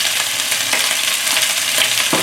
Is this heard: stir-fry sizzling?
yes